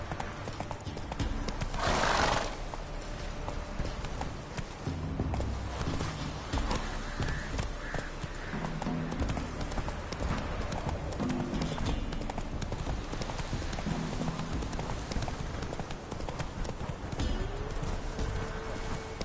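Hooves of the horse Roach clip-clopping steadily in a video game, a continuous rhythmic trot close by with a brief whinny near the start, over ambient game sound.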